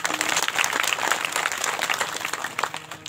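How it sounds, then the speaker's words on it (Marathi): A crowd at a Marathi kirtan gathering breaks into clapping, a dense, lively burst of hands that stays fairly loud and continuous throughout, with no one talking. "टाळ्या वाजून जोरानं"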